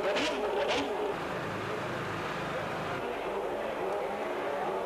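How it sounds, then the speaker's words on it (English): Formula One race cars from the 1992 season drive up one by one to their grid positions, with engine buzz and revving, a couple of sharper bursts early on, and a voice talking over them. "One by one, the cars came up to their grid positions."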